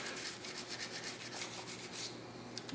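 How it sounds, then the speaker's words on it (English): Brush scrubbing the magazine well of a Smith & Wesson M&P9c compact pistol during cleaning, a close, quiet run of quick back-and-forth rubbing strokes. "Give everything a good scrubbing."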